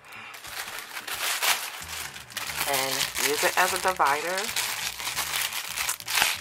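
Tissue paper from a subscription box unboxing crinkles and rustles in broadband bursts throughout, running under a woman's speech.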